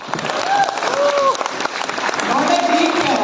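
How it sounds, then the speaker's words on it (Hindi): Applause from an audience at a corporate organization event, a dense steady patter of many hands continuing throughout, with a few tonal whistle-like sounds rising over it. "तालियां हो जाए पर"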